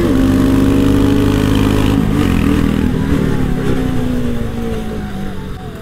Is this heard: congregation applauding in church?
no